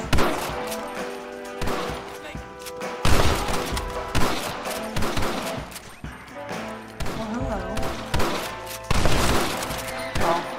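Dense gunfire in a Red Dead Redemption shootout at a bank, with rapid overlapping shots and sharp cracks layered over game music, and a voice talking now and then among the shots.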